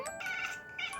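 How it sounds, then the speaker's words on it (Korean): Cat giving a short series of chattering, complaining meows in reaction to a person's coughing, close and fairly clear, with a brief pause between two bursts. "엄마 기침하는데 캬캬캬캬 해서 너무 신기해."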